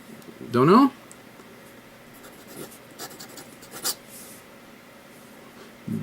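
Scratchy strokes of a vintage Waterman Crusader fountain pen nib on paper, a short burst of close scratching early on followed by fainter, sparse scrapes with quiet gaps.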